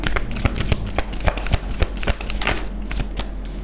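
Tarot cards are shuffled close up in a steady run of crisp riffling snaps and slaps, with quiet room tone behind and no speech.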